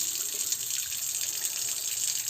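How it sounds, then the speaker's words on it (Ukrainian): Warm water runs steadily from a tap into a sink, a close, continuous hissing splash with no other sound. "І ми включаємо теплу воду, бо мило."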